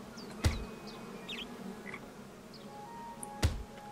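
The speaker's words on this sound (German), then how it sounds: "Da hängt ein Bienennest." Bees buzzing around a hanging bee nest in the video game Spirit of the Island: a faint, thin buzzing with scattered chirpy tones over a soft background, broken by two sharp thuds.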